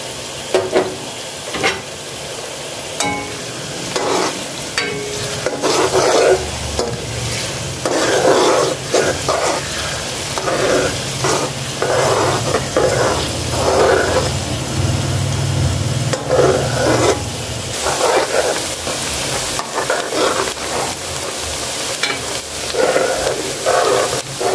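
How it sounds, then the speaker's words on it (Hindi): Onions browning in a pan for a homemade aloo mutton gosht curry, with steady close sizzling and frying broken by repeated stirring and scraping of a spatula against the pan, loud and continuous with no speech. "हमारे प्याज ब्राउन हो रहे हैं और साथ ही हम कुछ खड़े मसाले इसमें ऐड करेंगे"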